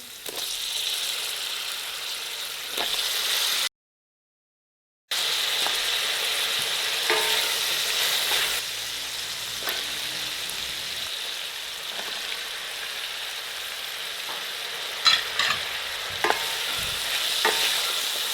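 Steady sizzling of vegetables frying with ginger garlic paste in a pan, with occasional scraping and clinks of a spoon stirring, close up and continuous.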